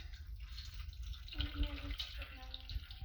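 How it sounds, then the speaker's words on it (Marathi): Cold water pours over boiled Maggi noodles sitting in a kitchen strainer, a close, continuous splashing rush with brief gurgles, while a voice talks softly underneath. "आता चाळणीत असं गाळून घेऊया गार पाणी ओतूया"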